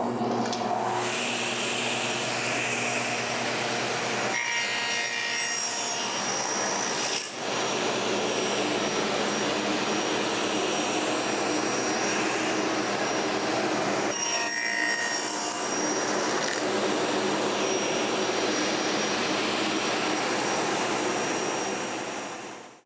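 A table saw rips a length of wood against a tightened fence, its loud continuous whine running steady and close for over twenty seconds, with the pitch dipping slightly as the cut bears down.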